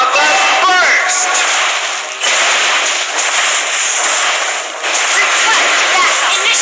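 A mobile battle game's Lava Burst fire skill goes off in loud, dense fiery crackles and bursts that fill the whole stretch, dipping briefly twice before surging again.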